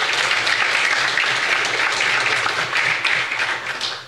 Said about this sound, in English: Ladies and gentlemen, a round of applause for Springfield High School.